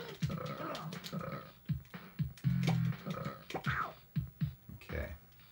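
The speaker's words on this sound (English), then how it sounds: "you have to just keep burping on him until he holds his breath" Repeated cartoonish burps from Beavis and Butthead in the Sega Genesis game, a series of short guttural belches in an irregular rhythm over game sounds, with no talking.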